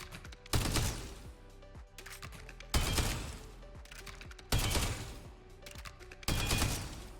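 Automatic weapon fire in the shooter game Spectre Divide, in four loud bursts separated by brief reload and mechanical clicks, recorded close and clear with no talking.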